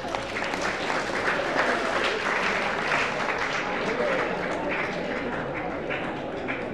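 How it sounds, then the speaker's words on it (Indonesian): A room of high school students applauding together: dense, sustained clapping that holds steady for several seconds, with a few voices mixed into the noise. "Oke, aplaus dulu lah untuk diri kalian sendiri."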